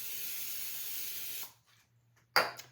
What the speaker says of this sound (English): I'm still going to spray it